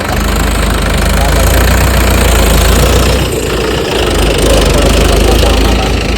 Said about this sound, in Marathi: आलं ट्रॅक्टर चिकल भरायला